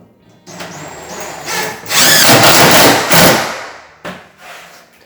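A power drill drives fasteners through 2x4 boards framing a bathroom shower wall, with several close whirring bursts rising and falling over a few seconds, followed by short quieter taps.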